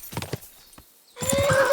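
A horse in Kingdom Come: Deliverance 2 gives a few quick hoof clops, pauses, then lets out a loud, drawn-out whinny, close and clear with no talk over it.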